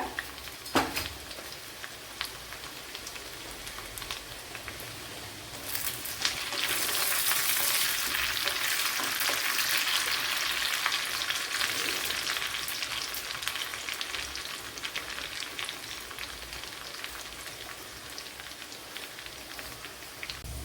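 Chopped shallots dropped into hot oil with spluttering mustard seeds for a fish curry, a steady close sizzle that swells louder for a stretch, with scattered pops and crackles throughout.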